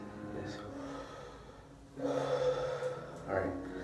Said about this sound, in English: let's take one deep breath just to relax